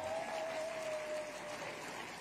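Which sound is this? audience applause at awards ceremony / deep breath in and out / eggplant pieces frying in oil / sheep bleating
audience applause at awards ceremony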